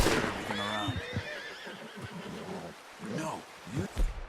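A horse in Red Dead Redemption 2 whinnies near the start, a short rising neigh followed by snorting, with game dialogue speaking over and after it and faint hoof and ambient game sounds.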